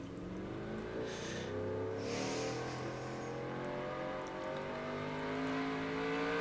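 A race car engine drones steadily on the Denver Motorsports Park circuit in NR2003, its pitch climbing slowly as the car accelerates down the track. The engine holds a constant level at moderate volume, and no one speaks.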